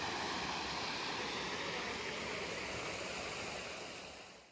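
Temple Falls at Nagalapuram: a steady, dense roar of falling water, close and continuous, easing off slightly at the very end.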